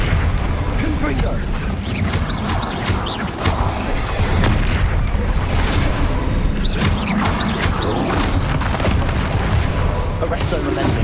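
Spell explosions in the Hogwarts Legacy video game, loud repeated booms and crackling bursts in dense succession, with spoken voices mixed in.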